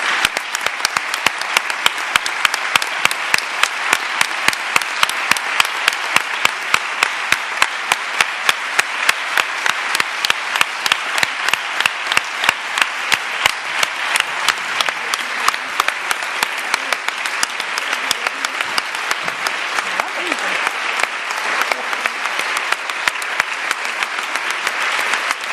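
Sustained applause in a courtroom, a dense, loud wash of many hands clapping steadily for about twenty-five seconds without pause.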